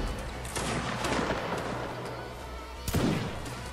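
A musket volley from a line-battle regiment in a Napoleonic-era multiplayer game, a dense, rolling crackle of many overlapping shots with a second burst near the end, loud and close over a constant noisy background.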